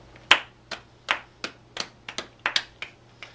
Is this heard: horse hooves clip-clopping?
no